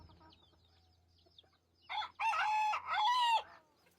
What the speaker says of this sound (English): Come on, Flamenco, I know you want to crow.